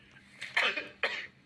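Two quick coughs, close and fairly loud, one after the other in a short burst with no talking.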